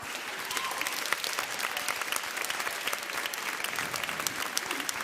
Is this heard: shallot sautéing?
no